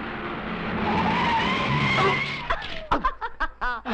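A car brakes hard, its tyres skidding and squealing loudly for about two and a half seconds before a voice speaks in short bursts.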